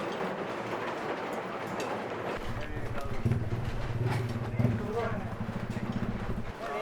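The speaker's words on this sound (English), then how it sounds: "You can hear the turning of the sluice machines." Sluice machines turning in a hillside mining slum in the Philippines, a steady mechanical rumble with fast rhythmic clattering, moderately near, under loud background noise.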